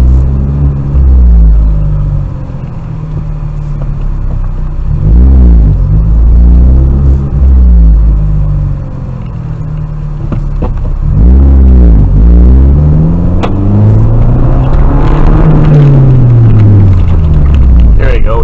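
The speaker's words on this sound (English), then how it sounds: "Cars driving by." Cars swish past one after another on a road by a small bridge in daylight, loud rising and falling engine rumbles with Doppler sweeps, heard from inside a moving car.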